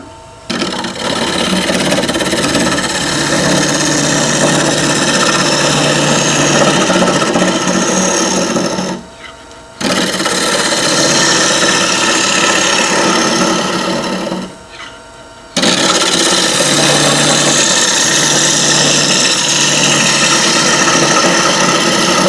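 Bowl turning on a wood lathe, a gouge cutting into the spinning wood with a steady loud rasping, grinding drone, broken by two brief pauses where the tool lifts off before resuming.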